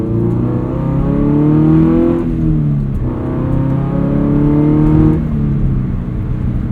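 A Subaru BRZ sports car driving, its engine droning steadily from inside the cabin with a rising pitch through the gears and two brief dips at the shifts, loud and continuous with no talk.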